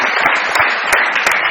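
Loud, steady audience applause fills a TV comedy show studio as a guest is called up to collect a motorcycle prize, dense clapping throughout with brief sharper bursts.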